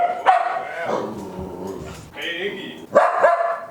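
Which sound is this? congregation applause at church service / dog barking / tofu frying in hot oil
dog barking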